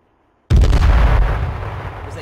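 A grenade explodes in the video game H1Z1, with a sudden loud boom followed by a long, rumbling, decaying roar.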